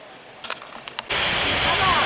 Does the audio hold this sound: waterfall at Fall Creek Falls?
yes